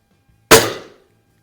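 A single sharp, loud crack from a Norica Dream Hunter air rifle firing a pellet at an outdoor range, with a quick decaying ring and no voices.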